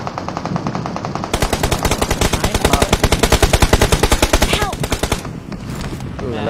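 Rapid automatic gunfire in a video game rattles loud and close in a long unbroken burst of evenly spaced shots, then stops abruptly, with a little scattered fire and game noise after.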